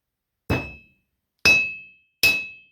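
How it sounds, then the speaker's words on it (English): A hammer strikes a percussion cap three times, each a sharp, loud metallic clink with a bright ringing tail, spaced about a second apart with silence between. "Gonna put a percussion cap here. Take my trusty hammer."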